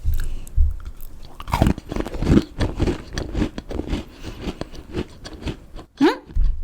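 Close crunchy chewing of a chocolate chip snack with peanut butter flavor, repeated irregular bites and crisp crackles over several seconds, up near the mouth.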